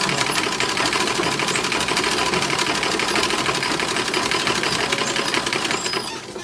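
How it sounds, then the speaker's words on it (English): A sewing machine runs steadily, stitching the side seams of 1910s-1920s boy toddler underwear, a fast continuous mechanical whirr and rattle close up that eases off only at the very end. "We're going to sew the fronts to the backs now."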